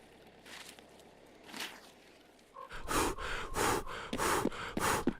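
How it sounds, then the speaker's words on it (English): Heavy in-game character breathing in Escape from Tarkov, apparently while wearing XL headgear, comes as a run of loud, rhythmic gasping breaths, with fainter breaths before them. "Is that what the fucking breathing sounds like with the XLs?"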